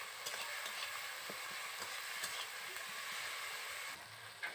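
Tomatoes and spices sautéing in a pan for a pomfret curry, a continuous hissing sizzle with occasional light clicks of the stirring spoon, fairly quiet and steady.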